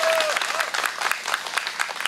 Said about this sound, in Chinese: 掌声一下，谢谢